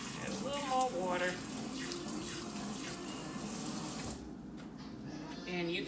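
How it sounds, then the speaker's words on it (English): Water poured into an indoor plant container while growing greens indoors, a close trickling and splashing stream that thins out partway through, with faint background noise. "Add a little more water."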